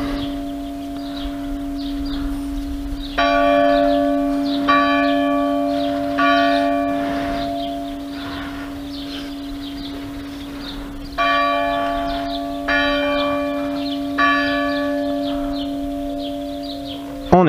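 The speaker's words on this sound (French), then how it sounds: "les cloches ont fini de sonner, on va pouvoir continuer" Church bells ring in repeated bursts of clear, resonant strikes over a steady background hum, with pauses between peals before the ringing comes to a stop.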